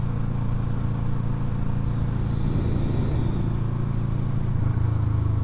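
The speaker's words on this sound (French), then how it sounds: "Le son du moteur est vraiment sympa, hein. Le bruit de ce petit bicylindre en ligne" A 2007 Kawasaki ER6N parallel-twin motorcycle engine drones steadily up close, a low, even rumble with a slight swell in the middle.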